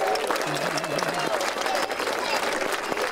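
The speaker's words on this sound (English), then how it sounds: "let's give a big clap for the kids." An outdoor community event crowd applauding children, steady clapping from many hands at moderate distance, with a brief voice heard briefly near the start.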